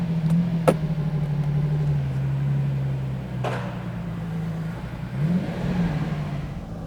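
A Lamborghini Espada V12 idles steadily and close by on its first road run from the workshop, with one brief rev rising near the end over a continuous low engine rumble and a couple of sharp clicks.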